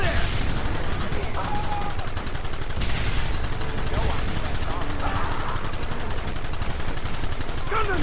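Rapid bursts of gunfire in a Red Dead Redemption shootout, loud and nearly continuous, with voices shouting in the background.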